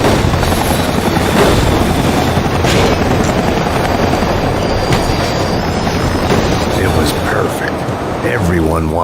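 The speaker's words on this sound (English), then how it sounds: "there'd be a tram full of goons trying to derail me." A tram full of gunmen rolls along rails in the game Max Payne 3, a steady loud rumble with rattling wheels and clatter running the whole time.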